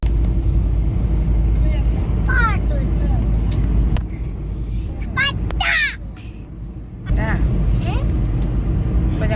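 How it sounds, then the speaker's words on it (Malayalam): Steady low engine rumble and road noise fill the cabin of a car cruising along a city road, loud and constant, with a dip midway and voices speaking over it. "നമ്മൾ കാറിൽ ഇരുന്ന് പോകുന്നുണ്ട്"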